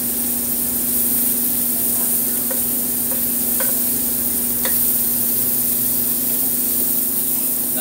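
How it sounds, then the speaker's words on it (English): Scallops seasoned with salt and pepper searing in butter in a pan give a steady, loud sizzle throughout, with a few faint clicks and no talk. "I like my scallops just with salt, pepper, and a little bit of butter in the pan. Sear it up."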